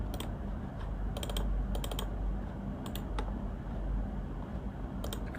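Someone types on a computer keyboard while editing Bootstrap code, short bursts of crisp key clicks separated by pauses over a faint room hum, close and quiet with no speech.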